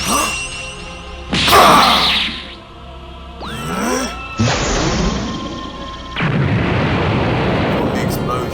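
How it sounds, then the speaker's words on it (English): Loud blasts and crashing booms with whooshing rushes, several explosive bursts in succession followed by a sustained rumbling roar. "From the explosion, Goku just barely survives"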